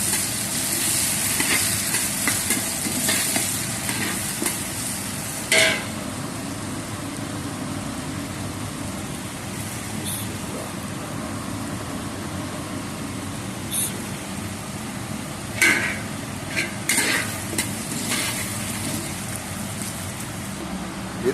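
Three large chopped onions frying in hot oil for chicken biryani, a steady close sizzle with occasional stirring scrapes and clatters of a spoon against the pot, no one talking.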